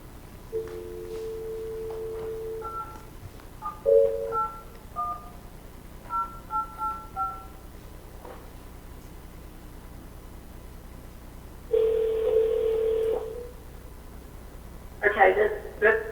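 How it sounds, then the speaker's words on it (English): Telephone keypad dialing tones during a call-back at a board meeting: short beeping DTMF bursts in quick clusters, then a longer ringback tone, heard close and clear amid a faint background hum. "Jenny, we are going to hang up and dial you right back"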